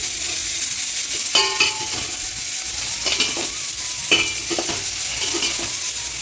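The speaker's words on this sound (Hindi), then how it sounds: "प्याज, अदरक के टुकड़े, हरी मिर्च और उसके बाद यहाँ पर थोड़ा सा इनको पकाएंगे" Onion, ginger pieces and green chili frying in a pan with tomato, a steady broadband sizzle throughout with several stirring scrapes of a utensil against the pan.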